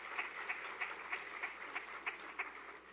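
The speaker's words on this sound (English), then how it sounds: "Let's give them a round of applause in their absence." Faint applause at a school appointments ceremony in St Kitts and Nevis, heard as a few sparse, evenly spaced claps on a quiet background with no talk over them.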